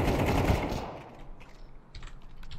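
Gunfire crackles in Counter-Strike 2 gameplay: a dense, loud burst of shots at the start that fades into quieter scattered reports and clicks.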